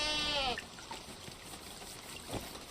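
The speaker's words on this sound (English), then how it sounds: "But we're mostly going to fight goats, I think now." A goat in the video game Wild Terra II gives one clear bleat at the start. It is followed by quieter background sound with a few soft taps.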